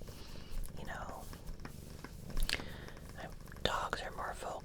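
Cat purring in a quiet home setting, a soft low continuous rumble close by, under a whispering voice with some faint mouth and handling noises.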